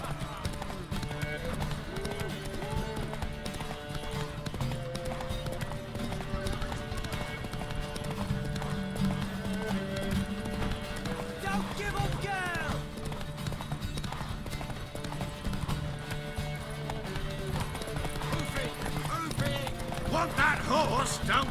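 Rhythmic hoofbeats of a galloping horse in The Witcher 3: Wild Hunt, under game music and voices, with a horse whinnying partway through.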